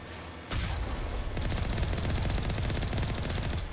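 Mako vehicle cannons and guns in Mass Effect firing in a sustained, loud rapid stream, starting after a brief lull and continuing without a break.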